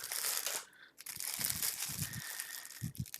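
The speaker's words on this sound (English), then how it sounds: "Now this plastic bag is wrapped" Close, crackly crinkling of a plastic bag as it is unwrapped from a Justice League action figure during an unboxing, with irregular crunchy bursts and brief pauses.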